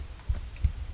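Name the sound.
heartbeat sound effect in Tomb Raider II video game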